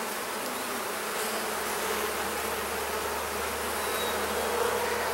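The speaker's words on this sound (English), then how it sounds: "A decent number of bees in this hive so far, not earth-shattering." Honey bees swarm an opened beehive during an inspection, their dense, steady buzzing humming continuously and close by with no voices.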